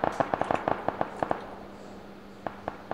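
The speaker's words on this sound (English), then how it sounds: "Oh, the grenade coming down, shit!" Grenade explosion in a battle royale shooter game, heard as a rapid burst of sharp crackling pops followed by a few scattered louder bangs, close and without talk.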